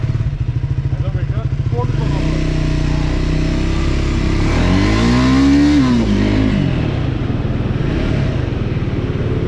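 Triumph Scrambler 400x motorcycle engine idles with a loud, even thump, then revs up and falls back as it pulls away on a test ride, heard up close throughout.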